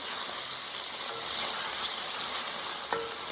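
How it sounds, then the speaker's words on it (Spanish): Shredded salt cod being stirred into a hot frying pan for Portuguese bacalao a bras, a steady close sizzle and frying hiss with faint scraping of the mix, no talking. "y ahora es cuando empezamos a mezclar con el bacalao desmigado"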